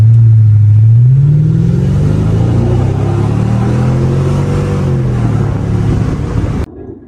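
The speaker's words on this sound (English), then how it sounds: "It is a 2003 Mercedes E500. It has the M113 engine, a 5-liter naturally aspirated V8." A 2003 Mercedes E500 with the M113 5-liter naturally aspirated V8 while driving, a loud close engine drone that rises and falls in pitch with revs, steady throughout before cutting off abruptly near the end.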